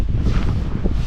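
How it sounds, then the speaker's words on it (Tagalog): Strong wind outdoors buffets the microphone in a loud, constant low roar with rustling texture, no voices present during the brief gust. "Akala ko biglang umulan, hangin lang pala."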